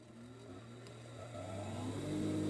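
A sewing machine is switched on while making hijab face masks, its motor hum starting low and steadily rising in pitch and loudness, close by with no talking.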